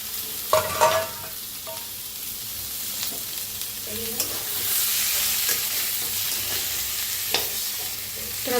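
Boiled, peeled and mashed potatoes being mixed in a pan for a potato bhaji patty filling, with soft scraping and stirring strokes, a few sharper spoon knocks early and a faint sizzle underneath.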